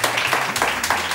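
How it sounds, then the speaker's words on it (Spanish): Studio audience at a television show bursting into loud applause, a short, dense wash of clapping with a few louder swells. "¡Aplauso fuerte!"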